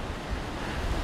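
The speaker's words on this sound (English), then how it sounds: "look at the size of this wave" Big Atlantic Ocean wave breaking on the coast of Lanzarote, a loud, continuous roar of surf with low rumbling swells and some wind noise, no voices.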